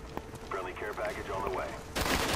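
Assault rifle gunfire in Black Ops, a short burst of cracking shots mixed with faint game voices, ending in a louder, denser volley near the close.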